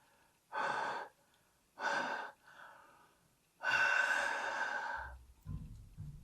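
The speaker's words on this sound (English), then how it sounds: "I was testing it in terms of just me breathing into it without a mask" Breathing against a plastic face shield during a fog test, heard as three close, airy exhalations, the last one longer, followed by faint low rustling.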